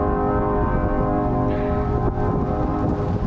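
A train passes through Livingston, Montana, its horn sounding as a loud, steady, sustained blast that fills the whole moment, close and unbroken with no talk.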